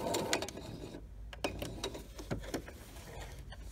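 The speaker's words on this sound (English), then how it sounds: "I'm going to sew straight off the point" Sewing machine stitching quilt binding along the point of a mitered corner on a small mug rug, heard as close, uneven bursts of mechanical clicking and whirring with short pauses between runs.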